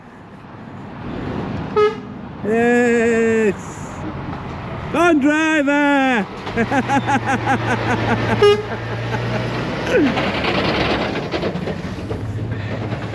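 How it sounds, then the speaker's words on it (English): A passing truck on a road near Cork, Ireland, gives two long, loud, tonal horn blasts close by, and excited talk comes between and after them. "I've got a beep from a truck."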